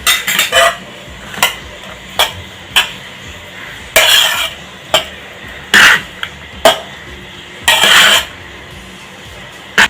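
Lemon rice is stirred in a pot with a metal spoon, giving a series of close, sharp scraping and clinking strokes in irregular bursts with short pauses between them, and no voices.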